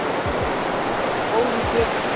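Sweden's highest waterfall roars as a steady, dense broadband rush close by, with faint voices underneath.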